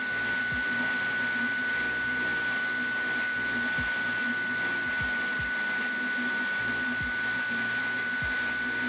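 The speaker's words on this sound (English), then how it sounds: "Oh my gosh, this printer is loud." A Sovol SV08 3D printer's fan runs loud and steady, a close, unbroken whirring roar with a few soft low knocks scattered through it, and no one talks.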